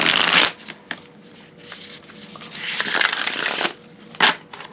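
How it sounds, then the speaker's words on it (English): Spirit Keeper's Tarot cards riffle shuffled by hand: a loud, close burst of fluttering card clatter, then quieter handling, and a second brisk riffle near the end. "A little apprehensive about doing the riffle shuffle, but they're going to get shuffled."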